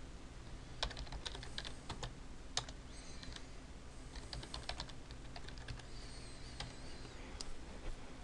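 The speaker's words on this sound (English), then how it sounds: "Type in the URL that you've been given by your IT department" Keys being typed on a computer keyboard while entering a VPN web address in Windows 7, quiet scattered clicks in short bursts over a steady background hum.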